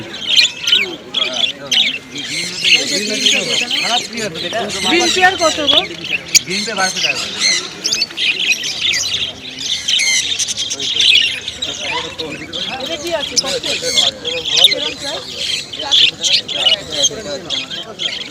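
Many colourful caged birds at a pet market in Dakshineswar, Kolkata, squawk and chirp in a dense, continuous chorus throughout, with voices murmuring underneath.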